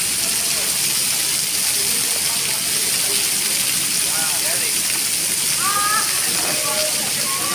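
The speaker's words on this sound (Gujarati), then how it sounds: "મોરબી માટલ વિસ્તારમાં વરસાદ ચાલુ." Heavy rain falls steadily in the Morbi area, a dense, constant hiss close by, with faint voices and scattered chirps showing through the downpour.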